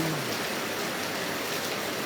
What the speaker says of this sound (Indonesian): di Kabupaten Kuningan hujan